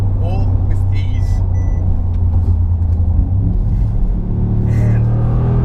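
Deep, steady engine rumble from a 2019 Mercedes-AMG G63 G-Wagon driving in traffic, a loud continuous low drone inside the cabin with faint higher sounds over it.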